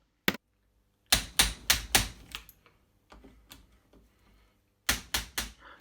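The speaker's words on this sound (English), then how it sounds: "the impact driver is not only an excellent tool for removing stubborn screws, but it doubles as a gearbox sprocket remover" Impact driver hammering a sprocket off a BSA M33 motorcycle gearbox: one sharp rap, then a burst of four rapid loud impacts, scattered lighter clatter, and a final burst of four impacts, close and with no speech.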